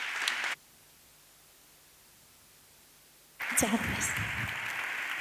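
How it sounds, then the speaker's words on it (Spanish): Conference audience applauding at a Spanish innovation panel session, a dense burst of clapping at the start that cuts off, then loud clapping resumes with a voice speaking over it. "Un fuerte aplauso."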